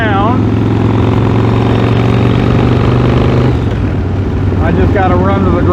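A motorcycle engine drones loud and close while riding around town, a steady low rumble with wind noise running throughout as someone talks over it.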